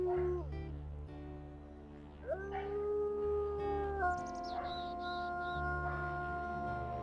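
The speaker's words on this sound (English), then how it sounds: "I just realized that we could hear some of the enemy howling out there." Enemy wolves howl in the WolfQuest video game's winter landscape, with long, wavering tonal howls rising and falling one after another over a steady low wind-like drone, some pitched high and thin.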